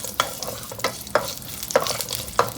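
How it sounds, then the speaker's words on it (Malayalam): Dried red chillies and curry leaves frying in hot oil for mango pickle, a steady sizzle broken by regular scraping stirs roughly every half second, close and with no talk. "ഇതിനെല്ലാം കൂടി ഒന്ന് മൂപ്പിച്ചെടുക്കുക"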